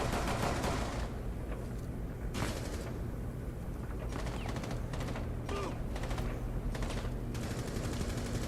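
Bursts of automatic gunfire in Rainbow Six Siege gameplay, several rapid volleys separated by short pauses, moderately loud with game sounds between and no talk.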